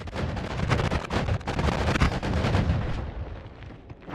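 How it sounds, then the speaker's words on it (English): Rapid, dense bursts of crackling explosions from a fireworks spell in the video game Noita, continuous booming and popping for several seconds before thinning out. "Fireworks."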